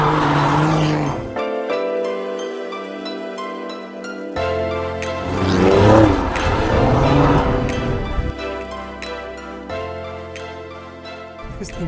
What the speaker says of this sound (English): This thing goes sideways very quickly, very easily.